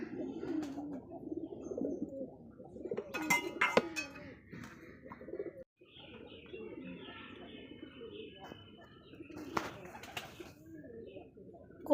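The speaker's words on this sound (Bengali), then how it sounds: "কবুতরে কিন্তু মাশাআল্লাহ ঘুম ঘুম করে ডাকছে" Pigeons in a rural village cooing in soft, repeated low calls with a few higher chirps scattered between, fairly quiet and close against a calm background.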